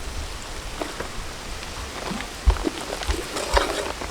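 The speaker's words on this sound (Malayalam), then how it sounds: "മഴ ചാറുന്നുണ്ട്, കുട പിടിച്ച് നിന്നാണ് ക്യാമറ ചെയ്യുന്നത് കേട്ടോ" Light rain drizzles outdoors around someone standing under an umbrella, a soft continuous patter with scattered sharper drops, close by and moderately loud, with no talking.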